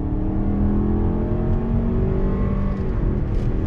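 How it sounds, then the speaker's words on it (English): A 2020 Lexus NX300 F Sport accelerates on throttle from a slow roll, its engine rising steadily in a smooth, loud hum with a brief shift dip near the end, heard from inside the cabin. "Let's do a little on throttle acceleration."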